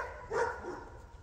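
A puppy gives a single short bark, fairly close and moderately loud, followed by a soft trailing yip over quiet background hiss.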